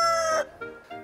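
A chicken crows loudly and close by for a moment, then breaks into two short, softer clucks.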